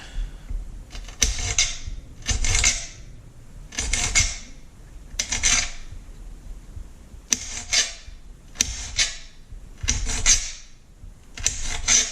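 Peppers being chopped with a knife on a cutting board for homemade pizza, with bursts of quick rhythmic knocks separated by short pauses, close and fairly loud, with no talking.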